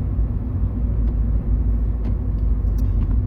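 A 1997 Opel Astra 1.6 16V on the road, heard from inside: a steady, loud low engine and road rumble with constant tyre noise and faint small rattles.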